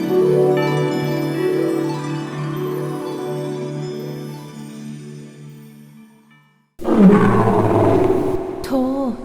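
A long, deep lion roar rumbles and slowly fades, then after a brief silence a second loud, snarling roar bursts in.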